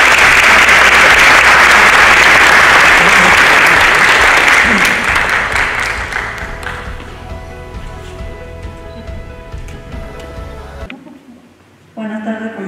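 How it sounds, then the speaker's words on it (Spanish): Loud applause from an audience at a monthly ceremony of the Colegio de Ingenieros de Perú in Lima for the dean. The clapping fills the first six seconds, fades through the middle, and a faint voice speaks near the end. "Un aplauso, por favor."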